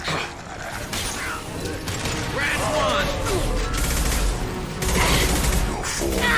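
Weapon fire crackles through a chaotic Mass Effect 2 firefight, with dense mechanical bursts and impacts blending into a loud, continuous battle din, while voices talk over the action.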